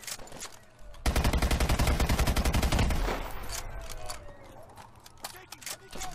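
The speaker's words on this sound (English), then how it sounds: "Oh, this is a nice gun. Oh, this is an LMG." Rapid light machine gun fire from an LMG in Call of Duty: Advanced Warfare, a loud sustained burst of dense regular shots for about two seconds, then trailing into scattered distant battle noise with someone talking over it.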